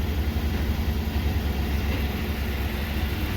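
A Ford truck with a worn dual exhaust system idles, giving a low, steady rumble with a throbbing pulse. It is close and even throughout, with no talking.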